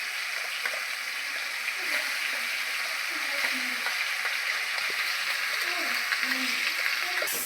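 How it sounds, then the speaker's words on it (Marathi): Chili paste frying in oil for an Indo-Chinese chilli chicken gravy, giving a steady, dense sizzle throughout with occasional soft scrapes of stirring and small pops, fairly close and without talk. "हे तेलामध्ये आपल्याला छान भाजून घ्यायचं आहे तेल सुटेपर्यंत."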